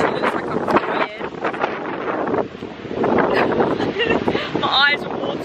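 Strong wind buffets the microphone outdoors on Rhodes, producing loud, gusty roaring bursts that rise and fall throughout, mixed with intermittent talking.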